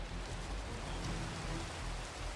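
Steady rain pours in the blocky sandbox game Minecraft, an even, soft hiss of falling drops that stays constant throughout with no voices.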